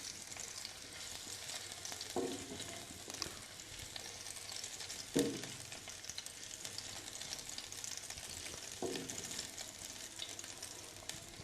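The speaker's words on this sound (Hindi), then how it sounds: "इसके अंदर मैं ये लहसुन डाल दूंगी जिसे चॉप करके रखा है। इसे थोड़ी देर के लिए फ्राई करेंगे" Chopped garlic sizzles in a pan for vegetable pasta, a soft, steady frying hiss with a few faint stirring knocks, heard alone without talk.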